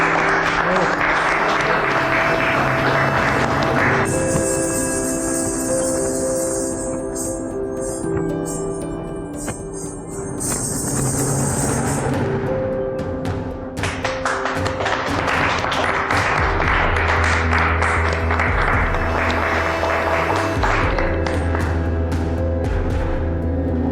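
Audience applause at a competition, steady and loud, with music and a tonal backing underneath throughout, a brief dip near the middle before the clapping swells again.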